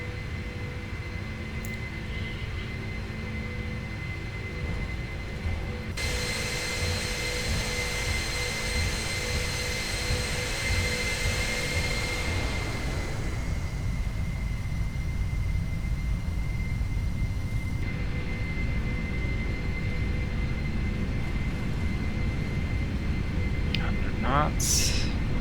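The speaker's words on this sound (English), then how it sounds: "Listen to those beastly engines." Airliner jet engines spool up to takeoff thrust during a heavy cargo departure, a powerful continuous roar with whining tones that builds and holds steady; voices speak over it.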